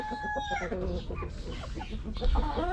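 Four-month-old backyard chickens cluck and call continuously up close, with overlapping chatter and a slightly louder burst near the end.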